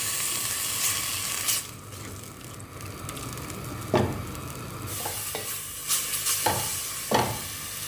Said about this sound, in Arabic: شويه برك نقليها في هذيك الزيت باش تنقص على الاسيديتي